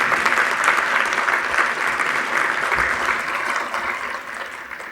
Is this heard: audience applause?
yes